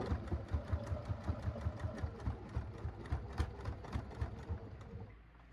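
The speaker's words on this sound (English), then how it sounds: "And I'm just going to sew down." Sewing machine stitching down a dress hem in a rapid, even mechanical chatter of needle strokes, close and steady, then slowing to a stop at the end.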